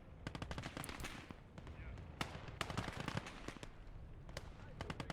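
Rapid overlapping gunshots crackle through a World War II battle at Stalingrad in the strategy game Gates of Hell Ostfront, sniper rifle shots mixed among dense distant and near fire, steady and busy throughout.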